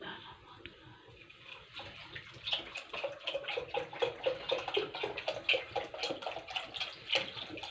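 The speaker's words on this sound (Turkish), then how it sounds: "Şimdi sütü döküyoruz." Milk being poured into a pot for Turkish rice pudding, a steady liquid splashing and trickling that swells and holds at moderate loudness throughout.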